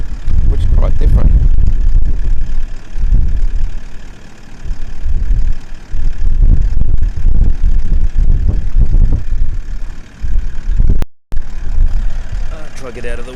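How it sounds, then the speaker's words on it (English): Gusty wind buffets the microphone outdoors in a mining area among houses and dirt mounds, a loud continuous low rumble that surges and dips, with a brief dropout near the end. "I'll try to get out of the wind a little bit for you"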